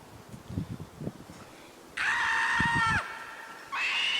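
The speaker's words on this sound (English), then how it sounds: "I'm hearing lots of screams today" Two high, drawn-out screams ring out, the first about a second long and the second cut short, after a few low murmuring sounds.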